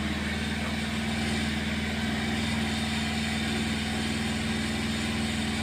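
A Bajaj Pulsar motorcycle engine idles in a low, steady drone with an even, fast pulse. It holds at a constant level the whole time, with no talking.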